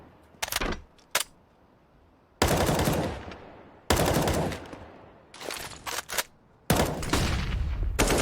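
Automatic rifle sprays fired through a smoke grenade in a Counter-Strike match on the Nuke map, several loud bursts of rapid gunfire split by short pauses, with a couple of single shots at the start.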